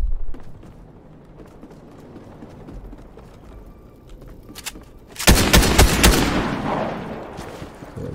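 A rapid-firing weapon in Fortnite lets off a loud, dense burst of shots partway through that trails into echoing noise, after a stretch of faint background game sound.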